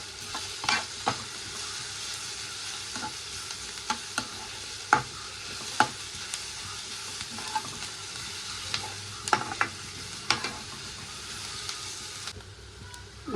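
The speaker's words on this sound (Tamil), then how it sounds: "இஞ்சி பூண்டு பேஸ்ட்டு ஆட் பண்ணிவிட்டு நல்லா பச்சை வாசனை போகிற வரைக்குமே நல்லா வதக்கிடலாம்." Ginger garlic paste sautés in a pan, a steady sizzle and fry with repeated sharp scrapes and clinks of a spoon stirring against the pan, close and alone without talk.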